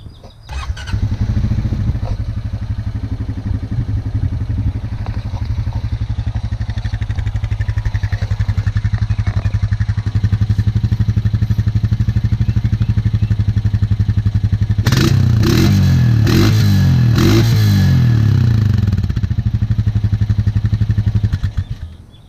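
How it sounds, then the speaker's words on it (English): Stock exhaust of a 2022 Honda Rancher 420 ATV idling with a steady low rumble throughout, then a burst of several sharp revs near the end before it settles back to idle, close and loud. "Let's start out first with some sound clips of the stock exhaust."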